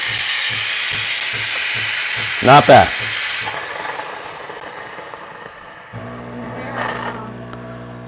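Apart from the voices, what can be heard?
steam wand steaming on Breville Barista Pro espresso machine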